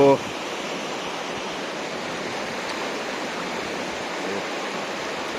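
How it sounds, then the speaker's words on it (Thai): The Mun River running high and fast rushes in a steady, broad roar that continues unbroken throughout. "น้ำไหลเชี่ยวมากครับ"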